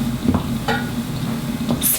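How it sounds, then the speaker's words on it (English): Cake batter for a marble cake, made with sifted flour, mixed with a spatula in a bowl: soft scraping and stirring strokes that swell and fade in a steady rhythm, close and moderately loud, with no voices. "And mix it using the spatula."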